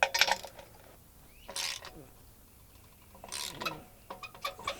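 A wrench tightens a bolt on a universal tractor canopy, giving scattered metallic clicks and clinks in short bursts, close by and fairly faint, with quiet gaps between.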